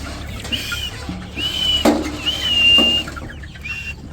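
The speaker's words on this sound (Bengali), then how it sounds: "এই যে মুরগিগুলো সবগুলো এদিকে এসে ভিড়ে দিচ্ছে" Chickens crowd together in a village yard, giving scattered high chirps and a few soft clucks spread across the moment, fairly close and mostly on their own over a low background hum.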